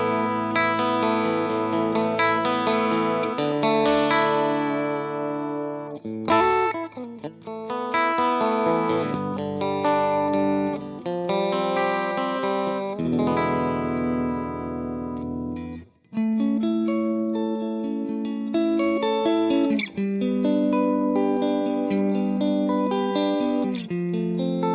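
Electric guitar playing sustained chords and melodic lines through a Blackstar amplifier with reverb set at about 10, loud and continuous, with a brief pause midway.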